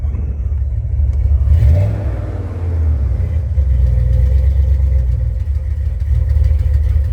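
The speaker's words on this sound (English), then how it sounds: "You can see it's got a little bit of hesitation to it. When I rev it up," A car engine with a hesitation fault revs up, rising in pitch, then sags and drops back before settling into a loud, steady rumbling run, heard close with no talking.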